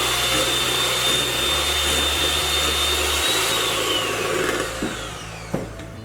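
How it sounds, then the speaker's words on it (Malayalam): An electric hand mixer beats eggs and flour into cake batter for a stovetop pan cake, giving a steady close motor whir throughout with a slight shift in pitch partway through. "ബീറ്റ് ചെയ്യുമ്പോൾ എപ്പോഴും ആദ്യം സ്ലോ സ്പീഡിൽ ഇട്ടിട്ട് വേണം പിന്നെ സ്പീഡ് കൂട്ടാനുള്ളത്."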